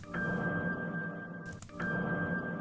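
A sustained, washy tone with a metallic ring, like isolated piano reverb, holds steady with a brief dip partway through before resuming.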